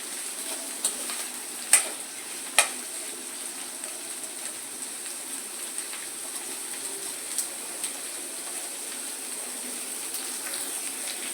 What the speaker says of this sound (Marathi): आणि कांदा लालसर होईपर्यंत याला आपण शिजवून घेऊया.